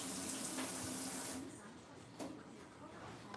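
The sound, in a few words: running water for rinsing hands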